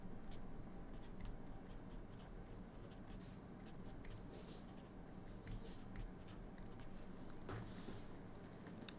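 Pen or pencil writing on paper while working through an AP Chemistry exam problem, a steady scratchy stream of strokes with small taps and pauses, close and fairly quiet, with no talk.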